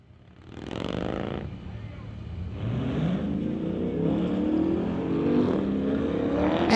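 Street-legal drag racing cars, one of them a Corvette, roar in a loud sustained engine rush that builds steadily with rising revs, close and continuous throughout.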